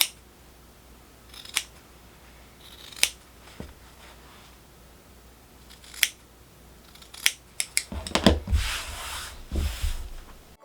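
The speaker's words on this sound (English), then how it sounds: "we're just going to trim away our corners a little bit" Scissors trimming the fabric corners of a sewn tote bag: a handful of sharp, separate snips spaced a second or more apart, close and crisp, followed by rustling and handling of the cloth.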